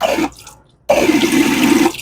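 A Lancer dual-pour fountain soda machine dispenses sparkling water in a steady hissing gush, briefly cut off and then resumed, close and fairly loud.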